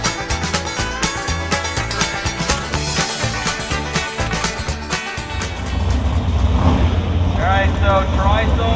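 A drag radial race car's burnout at a drag strip, a loud, harsh roaring engine with rapid pulsing revs, building into a sustained screaming tire-spin drone toward the end, heard close with heavy wind noise.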